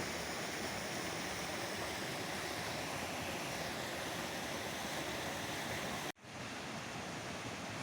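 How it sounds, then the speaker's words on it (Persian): A full stream of snowmelt water flows through the Shahzadeh garden in Kerman, a steady, dense rushing close by that cuts out abruptly near the end and then resumes. "این آب که از برفای کوههای اطراف میاد."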